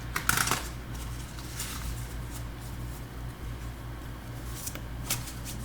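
Tarot cards are shuffled and drawn close by. A burst of crisp riffling comes first, then quieter scattered card flicks and slides, with one more sharp riffle near the end over a low steady hum.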